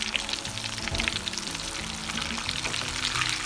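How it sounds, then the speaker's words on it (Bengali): Shrimp coated in chili flakes deep frying in oil already used for fish, giving a dense, continuous crackling sizzle up close over a faint steady tonal hum. "আমি চিংড়ি মাছগুলো ভেজে নিচ্ছি।"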